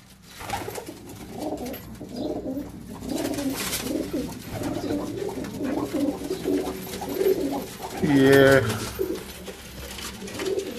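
Several fancy pigeons in Multan, Pakistan coo in low, rolling murmurs throughout, with a louder burst of activity near the end and a busy background.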